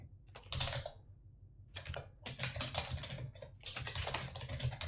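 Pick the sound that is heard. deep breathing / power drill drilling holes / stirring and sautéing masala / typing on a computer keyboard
typing on a computer keyboard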